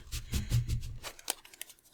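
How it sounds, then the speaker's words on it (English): Tarot cards shuffled by hand in a quick run of soft riffling and flicking, with a few sharper snaps near the end; faint and close, with no talking. "let's begin shuffling the tarot deck"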